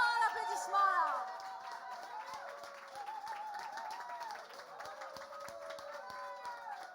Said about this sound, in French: Un grand applaudissement là.